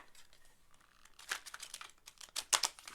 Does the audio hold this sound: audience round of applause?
no